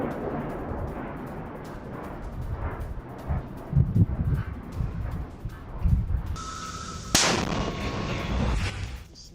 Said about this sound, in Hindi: अब राफा में हमास के ठिकाने पर गोलीबारी